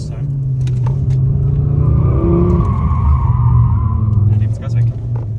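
An Audi RS3 drifts in second gear, its engine droning loud and close while the tires skid and squeal in a long rising and falling whine, with a voice talking over the car.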